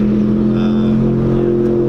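A stock Mazda Miata pushed hard on track gives a loud, steady engine drone from onboard, holding a constant pitch through a brief stretch.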